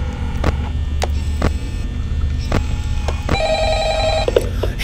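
Telephone ringing in the horror video game Five Nights at Freddy's, repeated bell bursts at a steady interval over a constant low mains hum, with a brighter electronic tone near the end.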